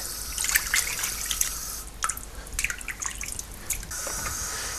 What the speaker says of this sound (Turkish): ıslatılmış balık kılçıkları yıkanıp süzgece konur